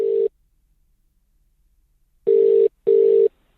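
Loud, clean telephone line tones: one short beep, a long silence, then two quick bursts in a row, like a call ringing through on a late-1970s phone.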